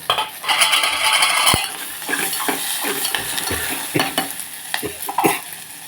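Tomato pieces frying in oil for coriander tomato chutney, a steady sizzle with a spoon stirring and scraping against the pan in repeated knocks and clinks, close up.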